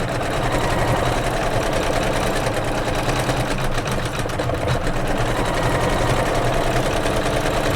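An embroidery machine stitching a watermelon block on a Kimberbell pillow, a loud, close, steady rapid needle clatter with a mechanical hum running unbroken throughout, no talking.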